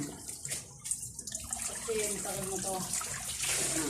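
Spring water flows steadily into a bathing tub at an outdoor water source. The rushing, gurgling stream is close and continuous, with faint voices briefly audible behind it.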